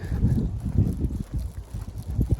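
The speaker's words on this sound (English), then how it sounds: "well, it's got windy now" Low, rumbling wind noise battering the microphone in uneven gusts, fairly loud and close, with nothing else standing out.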